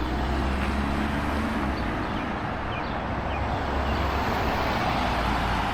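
Car traffic on a small-town street in historic downtown Newburgh, Indiana, a continuous low roadway rumble of passing vehicles with a steady noise bed throughout and no talk.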